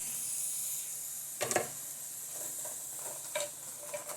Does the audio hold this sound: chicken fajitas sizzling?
yes